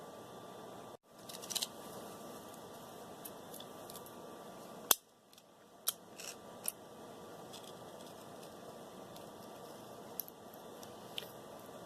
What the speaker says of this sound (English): Seeing if getting under these with a razor blade will help separate the nickel a little better without having to smash the magnets